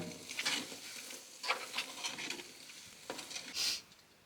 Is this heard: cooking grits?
yes